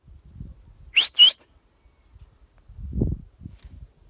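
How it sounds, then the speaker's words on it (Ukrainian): A person gives two short, sharp whistles outdoors to call cows home from early spring pasture on winter wheat, followed by faint rustling and footsteps. "для них достатньо крикнути або подати свист голос і вони всі прийдуть додому"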